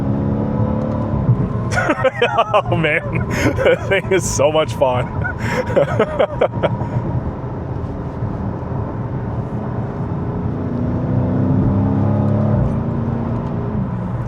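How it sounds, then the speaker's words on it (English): Dodge Challenger V8 pulling hard in second gear onto an interstate, a deep steady engine drone and intake roar climbing in pitch, with someone talking over the first half. "The V8 isn't like super loud or sounds super great. Again, this must just be the stock exhaust. But it's the intake noise that you get."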